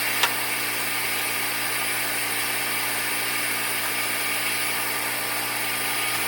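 A water extractor vacuum runs steadily while cleaning a dirty old car's interior, producing a constant loud motor drone with a faint whine and no clear breaks.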